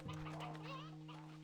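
Roosters clucking in the video game Slime Rancher 2, a brief close cluck with a steady background hum, no talk.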